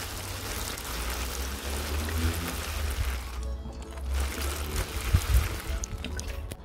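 Water pours steadily for several seconds onto cardboard bedding in a worm compost bin, with a broad, splashing rush, close by and fairly loud, with no voices.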